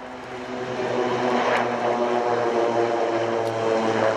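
Propeller-driven fixed-wing aircraft passing at an airshow, a steady loud engine drone with a low harmonic hum that swells slightly and holds throughout, no talk over it.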